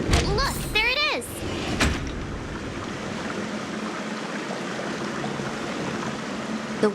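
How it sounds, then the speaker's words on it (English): Steady rushing water from a large fountain in a video game scene, a continuous broadband wash filling the whole stretch after a brief burst of game voice and chime-like effects at the start. "I think I hear the sound of water. You once mentioned there's a magnificent fountain up ahead."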